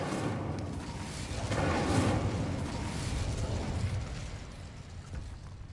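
An Incendio fire spell cast in Hogwarts Legacy, giving a dense roaring whoosh of flame that swells for a couple of seconds and then holds as a steady crackling rush, fairly loud and close.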